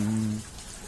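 Evening rain falls in a courtyard, a soft wash of patter and drips that continues after a low steady hum fades out early on.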